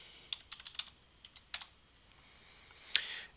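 Computer keyboard keys clatter as a username and password are typed into point-of-sale software, in short uneven bursts of crisp, close clicks separated by pauses, with one louder keystroke near the end and no talking.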